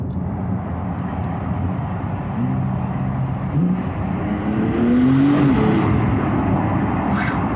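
Porsche 911 Turbo S engine droning and rising in pitch as it accelerates, heard from inside the cabin with the window lowered, a steady roar and a swell near the end.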